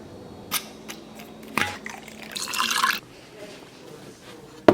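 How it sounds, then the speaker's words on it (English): Lime juice is poured for homemade margaritas, a brief liquid pour with scattered drips and small clicks around it, fairly close and quiet. "We got 6 ounces of lime juice."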